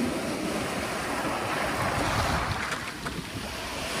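Strong sea waves surge and crash continuously at Manila Bay's Dolomite Beach, a loud, dense roar mixed with gusty wind buffeting the microphone, with no voices.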